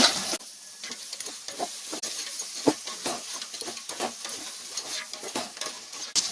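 Crab pieces stirred into fried tomatoes and onions in a pan for crab curry, sizzling steadily under repeated scraping spoon strokes and occasional clatters, close and continuous with no speech.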